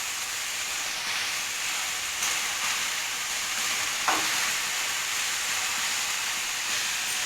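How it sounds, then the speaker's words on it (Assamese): Mixed boiled herbs and greens being stirred with a spatula in a pan, a soft, steady hiss with a faint scrape or two partway through. "এতিয়া হেতা এপাতেৰে শাকখিনি মই 10 ছেকেণ্ডমান লৰাই দিলোঁ"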